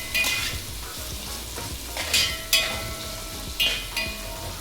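Tomato masala with salt fries in a pan for egg biryani while being stirred: a continuous close sizzle broken by several sharp scraping strokes and light metallic clinks.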